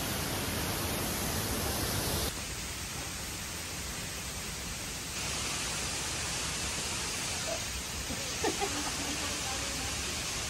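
Talay Falls at Hulugan Falls in Laguna roars as a dense, steady rush of falling water, loud and continuous, filling the scene.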